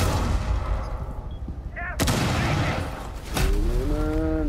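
Shotgun blasts in a first-person shooter game. One sharp, loud boom comes at the two-second mark and a second follows just after three seconds. Game sound effects chirp in between the shots.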